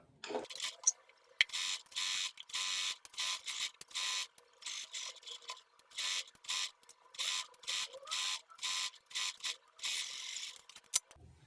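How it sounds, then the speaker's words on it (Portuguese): A sewing machine stitches a 1 cm seam on a fitted dress with backstitching at the start and end, running in repeated short bursts of rapid mechanical whirring and clatter with brief pauses between, close and fairly quiet. "vou bater uma costura de 1 centímetro, com retrocesso no início e no final"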